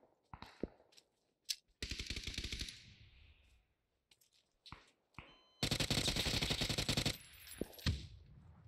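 Bursts of automatic gunfire from a PUBG match on the Taego map, with scattered single shots, then a long, dense, loud volley of rapid fire that ends in a few trailing shots.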